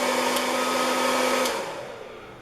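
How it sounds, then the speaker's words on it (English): A Presto PopLite hot-air popcorn popper, modified for coffee roasting, runs its blower and fan with a steady, close whooshing whir. After about a second and a half it switches off and the hum winds down and fades. "if we turn this on, the blower comes on and the fan comes on"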